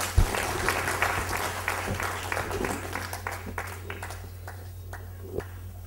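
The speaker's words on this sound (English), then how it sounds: "let's give Dr. Amarnath a huge round of applause" Audience applause for Dr. Amarnath after his morning speech, moderate clapping from a hall crowd that thins and fades over several seconds, with a few isolated claps near the end.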